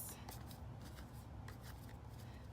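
Tarot cards are shuffled by hand in quick riffling bursts, soft and close, over a low background hum.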